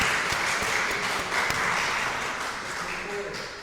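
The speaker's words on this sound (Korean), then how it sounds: "하나님께 영광의 박수를 올려드립니다." A church congregation applauds in praise during a service, a dense, sustained patter of clapping at moderate volume that fades slightly toward the end, with some voices mixed in.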